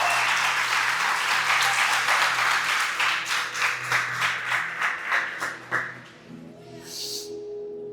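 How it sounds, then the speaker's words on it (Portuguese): Applause in a church service, with the congregation clapping briskly at first, then falling into rhythmic, fading claps that die away near the end. "Dá um aplauso ao Senhor Jesus nessa noite."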